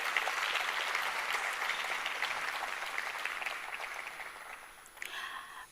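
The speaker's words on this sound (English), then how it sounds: "Please give them a huge round of applause." Audience applause at a mayoral matric awards ceremony for the class of 2024: a wash of clapping from a sizeable crowd that gradually fades, followed by a brief tonal sound or voice near the end.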